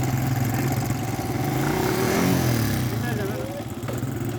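ATV engine droning and revving during a farm joyride, a loud close rumble that swells and eases, mixed with people talking.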